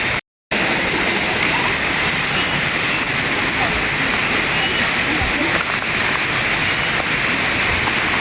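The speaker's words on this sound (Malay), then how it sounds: "Boleh saya nak pergi air terjun." A waterfall at Lata Perahu campsite roars as a steady, loud rush of pouring and splashing water, filling the whole clip without letting up.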